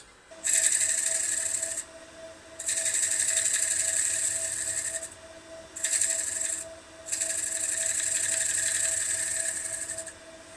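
A wood lathe hums steadily while a turning tool cuts a yarn bowl, shaping a rounded corner edge in four rasping bursts of shaving with brief pauses where only the motor drone remains.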